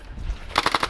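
A Boomco dart blaster fires a rapid burst of about five sharp, evenly spaced shots, close and loud, after a brief quiet lead-in.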